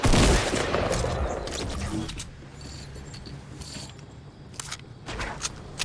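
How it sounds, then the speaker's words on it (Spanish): A rapid burst of Fortnite gunfire opens loud, then gives way to scattered clicks and mechanical noises with quieter shots. "Disparos en off."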